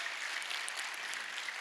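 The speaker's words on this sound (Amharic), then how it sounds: "አጨብጭቡ ካጨበጨባችሁ አይቀር" Audience applause at a youth discussion forum in Addis Ababa marking the Adwa victory anniversary, a dense steady patter of clapping hands, moderately distant and even in loudness for its brief length, with no talk over it.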